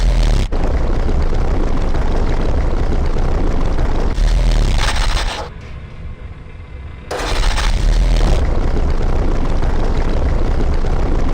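Ship engine running in the Grim Fandango video game, a loud, steady broadband drone with a propeller-like throb that cuts out briefly near the middle and then resumes at full strength, with no talking.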